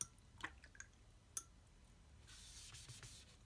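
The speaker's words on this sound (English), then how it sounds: "Spilling a little water here." Water spills and drips during watercolor swatching of a Qor watercolor pan set, a few sharp drip splashes early on, then a soft broad spray-like wash of liquid toward the end, quiet and close.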